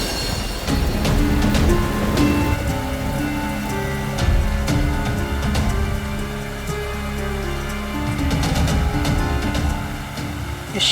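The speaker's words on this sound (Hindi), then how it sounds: "इस शिरडी में अचानक ऐसी बारिश?" Sudden heavy rain in a Shirdi scene of a TV drama pours down steadily, a dense continuous patter with scattered louder drops and a low rumble underneath, with no talking.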